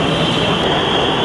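Steady train rumble as a train moves through Moti Jheel metro station in Kanpur, a continuous close rushing roar with a sustained high whine above it and no talking.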